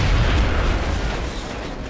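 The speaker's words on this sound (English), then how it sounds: "go ahead and throw this grenade out." A grenade detonates in X-Com: Enemy Within, a dense low rumbling blast that fills the short stretch and slowly decays, loud and alone with no voices.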